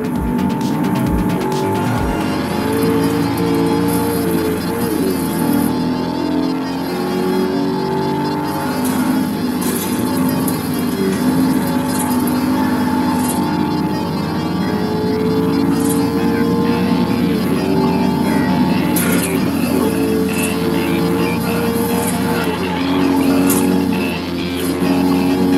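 Steady, loud engine drone of a car driving in the racing game Forza Horizon, continuous throughout with music-like tonal layers and no clear gear shifts.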